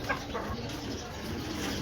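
Breeder pigeons on a Lahore rooftop give soft bird calls amid steady, close, broadband background noise, with no clear talk.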